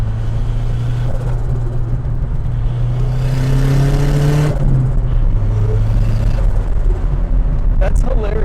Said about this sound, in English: They like our turbo noises too.